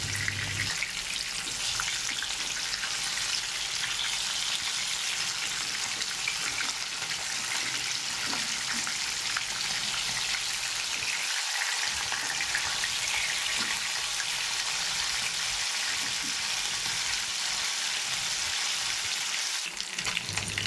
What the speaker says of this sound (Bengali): মাছগুলো এক পিঠ ভাজা হয়ে গেছে, এবার উল্টে দেবো।